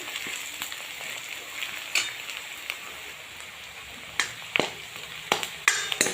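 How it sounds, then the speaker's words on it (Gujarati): Onions roasting slowly in a pan over a low gas flame for dal bati, giving a steady soft sizzle with scattered sharper pops and crackles, no voices. "એના માટે આપણે એકદમ ડુંગળી ધીમા તાપે શેકીશું."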